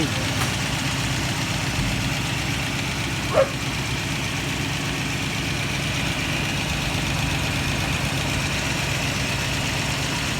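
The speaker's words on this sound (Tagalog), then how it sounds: "mandar na yung makina na in-overall namin" An overhauled Toyota 5K car engine idles steadily with a low, even rumble and faint ticking, close by and continuous, with a brief click partway through.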